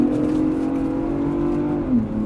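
Ford Bronco Raptor engine revving on the move, a loud, steady low drone heard from inside the cabin that holds its pitch, then drops at the end.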